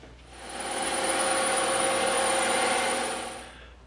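EVA foam is cut with a power tool in a workshop, giving a steady, close whirring buzz that swells, holds for a couple of seconds, then tapers away, with no talk.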